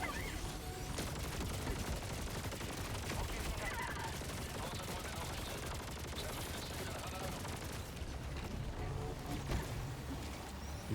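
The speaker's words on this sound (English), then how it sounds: "All these lasers going off, this is crazy." Laser cannons and other weapons fire nonstop during a chaotic battle against Illuminate enemies in Helldivers 2, a dense continuous barrage of rapid zaps and blasts with a player talking over the din.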